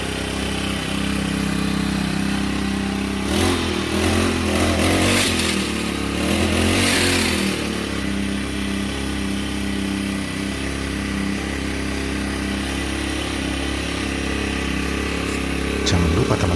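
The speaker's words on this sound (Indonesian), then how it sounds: "Kita sekarang akan pakai mesin serbaguna." A four-stroke multipurpose Fengke grass cutter runs at a steady idle with a humming mid-pitched drone, briefly revving louder in the middle before settling back, close to the microphone.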